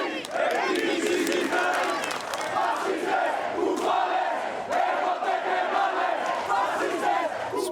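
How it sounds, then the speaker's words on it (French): A large crowd protesting in a Greek street after a funeral amid anger at austerity, a dense roar of many voices shouting and chanting together, loud and continuous with no pauses. "Spontanément, la foule improvise une manifestation."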